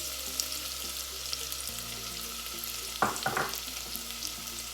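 Chopped ginger sautés in a pan, giving a steady, moderate frying sizzle with a couple of brief scraping stir sounds about two-thirds of the way through.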